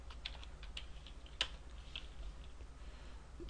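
Quiet typing on a computer keyboard while entering an After Effects expression: a short run of light, irregular key clicks with one slightly louder tap, heard alone and close.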